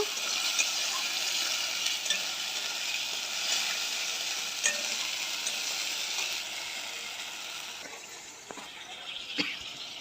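Spices, chopped tomato and potato frying in a pan with oil while being stirred: continuous close sizzling with scattered clicks and scrapes of a spoon against the pan, no speech.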